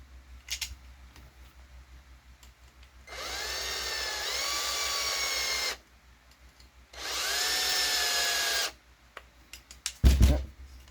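A small electric power driver whirs in two steady bursts of a few seconds each, driving screws into the rear end of a Losi 22S drag RC car, close and fairly loud, with light handling clicks and thuds between and after.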